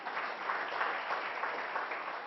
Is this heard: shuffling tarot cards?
no